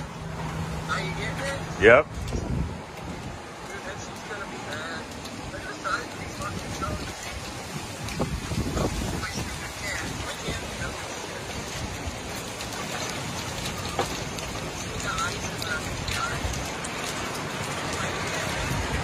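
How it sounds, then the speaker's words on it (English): Heavy hail and rain pelt down during a severe storm in southern Michigan, a dense continuous clatter on nearby surfaces with scattered sharper impacts, while someone speaks briefly near the start. "Here comes the hail."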